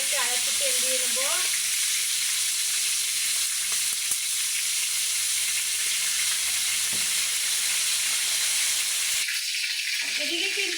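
Roast pieces fry in oil until crisp, producing a strong, steady sizzle and crackle close by for the whole stretch, with faint tonal sounds at the start and end.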